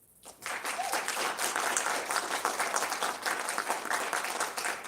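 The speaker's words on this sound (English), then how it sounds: "give the parents here a round of applause" Audience at the mYe Awards 2022 applauding the parents, clapping that begins abruptly and continues as a dense, steady round until the end.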